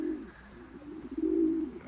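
Pigeon, a Staff Van Reek crossed with a black eagle, cooing nearby in a low, throaty rolling call that swells toward the end, with no talk over it.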